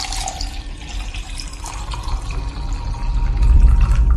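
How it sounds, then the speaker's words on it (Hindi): Water from a water pouch pours out beside a clear stepwell, a steady splashing, trickling stream that swells louder toward the end, close by with no talk. "उसने अपनी पानी की थैली निकाली और उसे खोल के उसमें बचा हुआ सारा पानी बगल में डाल दिया।"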